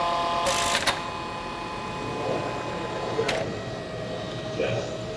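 FlexArm tapping arm turning at about 500 RPM as it drives in and out of a hole, a steady mechanical whir with brief louder bursts at the start, middle and end.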